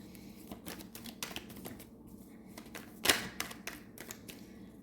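Tarot cards being shuffled by hand: a rapid run of crisp papery clicks and snaps, close and fairly quiet, with one sharper riffle in the middle and no voices.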